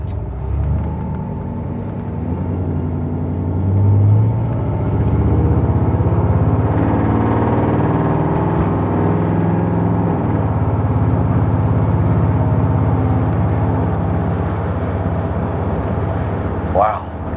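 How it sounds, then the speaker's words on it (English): A 1964 Cadillac accelerates hard from a stop, its engine rumbling loud and steady from inside the cabin as it pulls into traffic. "when the traffic opens up here, I'm going to get on the gas pretty good."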